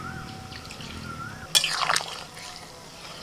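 Cornflour slurry mixed with water poured into a simmering chicken stew with carrot and papaya, a brief liquid splash and dribble lasting under half a second after a quiet stretch, close and moderate.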